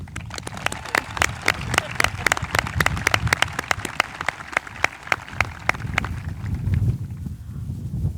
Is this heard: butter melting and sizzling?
no